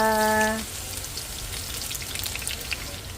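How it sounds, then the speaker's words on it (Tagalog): Onion and garlic sauté in oil previously used for frying bagnet and eggplant, for kare-kare: a steady crackling sizzle, close and fairly loud, after a brief electronic tone at the start. "Start na ako magkisa."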